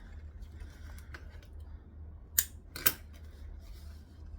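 Scissors snip into fabric while a backpack is being sewn, with two sharp, crisp cuts close up after a few lighter clicks, against a quiet low hum.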